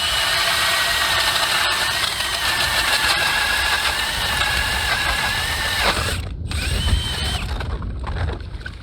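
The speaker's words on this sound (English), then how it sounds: "I'm letting the auger do all the work" A battery-powered ice auger, converted from a hand auger with a drill, bores a 10-inch hole through ice with a loud, steady whining grind that bogs briefly and then cuts off near the end, close up and without talk.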